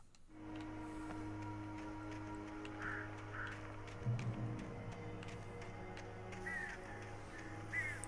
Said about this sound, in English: Those damn crows, Keenan.